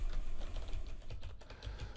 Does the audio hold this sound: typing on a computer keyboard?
yes